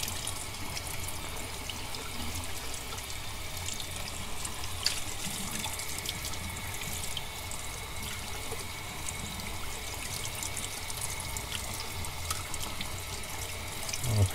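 Warm tap water runs steadily into a sink while a face mask is wetted for washing with dish soap, a constant close gushing hiss with small splashes and no talk throughout.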